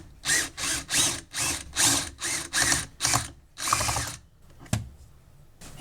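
A bolt on a washing machine drum assembly is loosened with a 1/4 inch Allen key in a ratcheting driver, giving about nine quick, loud, evenly spaced ratchet bursts close up, then a single clack.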